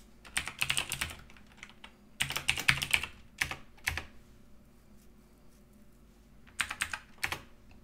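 Typing on a computer keyboard in short bursts of rapid, close clicking keystrokes separated by brief pauses, with no talk.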